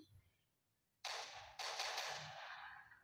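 Gunfire in the Roblox game Brookhaven: a sudden loud blast, then a second burst half a second later, each trailing off in a long hissing decay over a quiet background.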